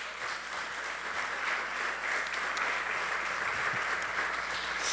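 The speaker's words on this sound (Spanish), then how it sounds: "Dale un fuerte aplauso al Señor." Church congregation applauding during a service, a soft, steady wash of many hands clapping, fairly distant and sustained without pauses.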